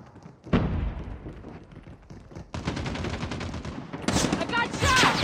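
Bursts of gunfire from the mobile shooter game Call of Duty Mobile, with a sharp shot, a dense stretch of rapid automatic fire and louder bursts near the end, close and loud over a busy battle.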